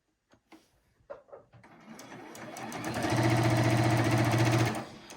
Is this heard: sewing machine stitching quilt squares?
yes